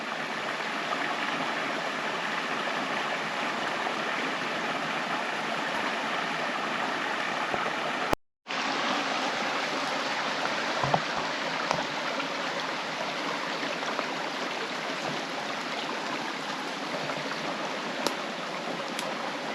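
A small creek with log debris along its channel runs in a steady, close rushing babble that fills the whole stretch, broken only by one brief cutout, with no voices.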